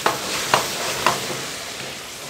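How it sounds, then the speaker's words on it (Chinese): Pork ribs being stir-fried in a wok with baijiu: a continuous close sizzle with three evenly spaced spatula scrapes and tosses in the first second, then steady frying noise. "翻炒均匀"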